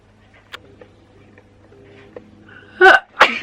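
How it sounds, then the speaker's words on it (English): A single sharp sneeze from a young woman, close to the microphone, followed by a second burst, after several seconds of quiet room tone with faint clicks. "And there was that sneeze from earlier."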